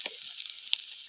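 Fish roe fritters frying in hot oil give a short, steady, hissing sizzle with a single faint tick partway through, close and fairly quiet.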